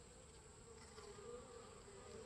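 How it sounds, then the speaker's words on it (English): Bees drone steadily in a dense, continuous hum as they gather at water-filled seedling trays, the buzz close and constant with no talking. "You can tell there's a lot of bees on this."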